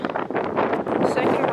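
Gusty wind on a farm mountain-bike build site buffets the microphone with a loud, continuous rumbling roar throughout.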